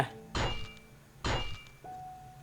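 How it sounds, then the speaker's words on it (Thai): A bed being smashed apart in a video game: two loud, hollow thuds about a second apart, each with a short clattery tail, followed by a faint steady electronic tone. "พังเตียงแป๊บหนึ่ง"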